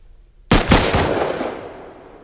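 A single loud gunshot from the survival game Rust, a sharp near crack followed by a second blast and a long reverberant tail fading over two seconds, with no talking.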